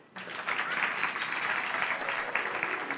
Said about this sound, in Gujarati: છોકરાઓ તાળી પાડો